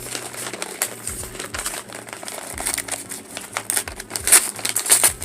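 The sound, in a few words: opening book packaging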